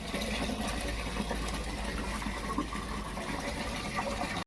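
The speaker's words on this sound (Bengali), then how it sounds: "আমি ততক্ষণে জলটা ভরে নিই" A steady, continuous rush of water pouring into a bucket at home, loud and close, running evenly throughout before cutting off abruptly at the very end.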